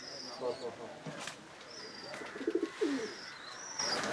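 Pigeons in a loft coo in soft low bursts, with sharp chirps and faint background noise around them and a voice speaking at times.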